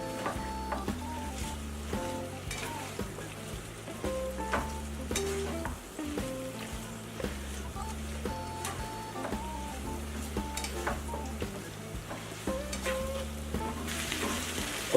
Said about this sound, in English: we're going to try to stir all of this up to incorporate everything in together